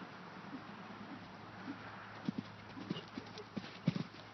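Horse hooves clip-clop at a steady riding pace during a schooling session, the soft footfalls growing sharper and more distinct toward the end, with no talk.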